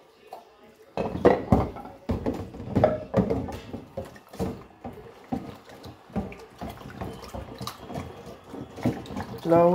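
Tap water runs into a home kitchen sink while bowls and plates are washed, with uneven splashes and clatters in bursts; faint voices may sit underneath.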